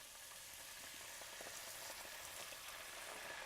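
A pork chop skillet with pears and their liquid simmers over medium heat, giving a faint, steady sizzle and bubbling with a few soft pops and no voices.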